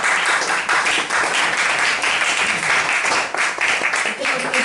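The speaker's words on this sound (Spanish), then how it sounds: "un gran aplauso" A steady, dense wash of applause from an audience after a talk about the Mar Menor, continuous and fairly loud throughout with faint voices mixed in.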